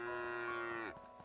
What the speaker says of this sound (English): Moo to you too.